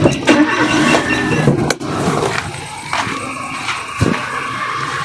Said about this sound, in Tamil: இப்போ வண்டியோட இன்ஜின் நான் உங்களுக்கு ஸ்டார்ட் பண்ணி காட்டுறேன் வாங்க.